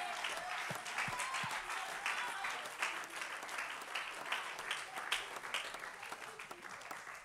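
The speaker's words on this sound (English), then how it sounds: "come on, clap your hands" A church congregation claps along, sounding fairly faint and distant, with a steady wash of hand claps and a few sharper individual claps standing out throughout.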